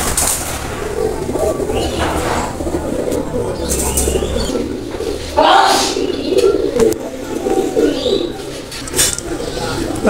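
White golden pigeons coo in soft repeated phrases amid a noisy background, with occasional voices and rustling nearby.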